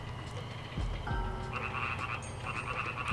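Frogs croak steadily in Frog Village in the video game Grandia, a dense, continuous chorus of overlapping croaks and trills at moderate, even loudness with no voices.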